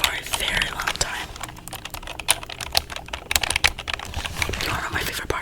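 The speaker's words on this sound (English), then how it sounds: "This is the keyboard I used on my first ever ASMR video on this channel." Computer keyboard being typed on for ASMR, a steady stream of close, crisp key clicks with uneven rhythm and occasional louder strikes, faint soft voice sounds in the background.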